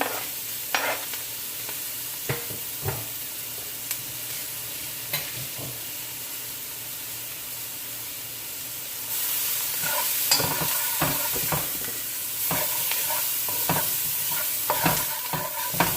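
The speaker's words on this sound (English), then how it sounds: "So after you burn the curry and the garlic and the onion and the scallion" Curry powder, garlic, onion and scallion frying on a stove for a Jamaican-style curry crab, a steady sizzle with scattered stirring clicks and scrapes that grows louder and busier partway through, no talking.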